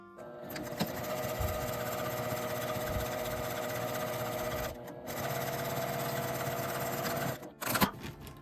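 A sewing machine stitches the lining of a makeup bag, sewing a gather line near the top edge: a steady, close mechanical whirring hum running almost continuously, with two short pauses and a brief clatter near the end.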